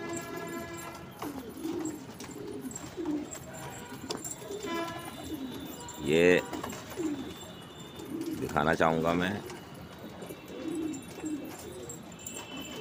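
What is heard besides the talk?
pigeons cooing while bathing in a tub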